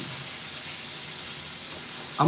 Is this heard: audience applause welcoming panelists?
no